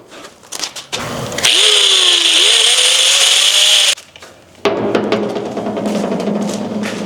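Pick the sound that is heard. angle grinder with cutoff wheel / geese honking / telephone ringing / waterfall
angle grinder with cutoff wheel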